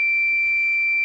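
A Fluke digital multimeter in ohms continuity mode emits one steady high-pitched beep lasting the whole second, loud and close with no talking.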